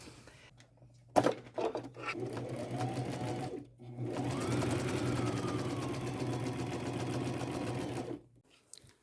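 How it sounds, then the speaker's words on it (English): A sewing machine runs a wide zigzag stitch in gold thread around fabric patches on an upcycled flannel and quilt jacket, whirring close and steadily for several seconds after a few clunks of handling. "sew around every patch with my largest zigzag stitch"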